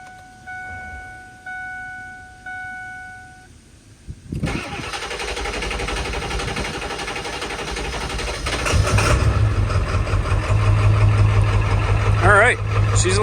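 A Ford 7.3L Powerstroke diesel engine cranks with a few whirring starter pulls, then fires after fresh high-pressure oil pump lines, catching into a loud, steady, clattering idle up close that grows rougher and heavier as it runs.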